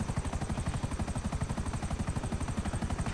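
A police helicopter in the video game GTA 5 thrums with a steady, rapid rotor chop that pulses evenly throughout, loud and continuous with no talking.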